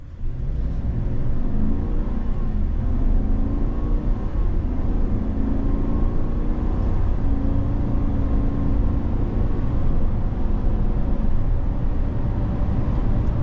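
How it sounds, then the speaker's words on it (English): A 2023 Chevrolet Silverado ZR2 pickup accelerates gently on the road, its engine rising in a smooth, continuous rumbling drone with gradually climbing pitch, heard steadily from inside the cab. "we had to feather that pedal because I don't want to blast it too much and get these revs up too high on a brand new engine"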